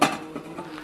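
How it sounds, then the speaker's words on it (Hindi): A lid clanks onto a pot of brain masala (bheja) on the stove, a sharp metallic clink up front followed by a few softer rattles and taps as it settles. "अब इसको हम जो है वो थोड़ी देर के लिए ढक देते हैं ताकि गल जाए"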